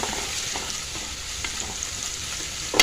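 Onions sauté in a pan, hissing in a steady, close sizzle with faint stirring scrapes and a sharp clatter at the very end, no voices.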